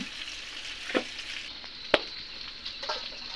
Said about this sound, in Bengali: মা আলুগুলো নেড়ে ছেড়ে দিল ঝাড়ি দিয়ে।